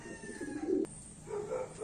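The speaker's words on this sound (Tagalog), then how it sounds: "Mas magandang ibon to, si Helia." A single low bird call, a soft cooing note close by, followed by a brief sharp click and quieter background sound.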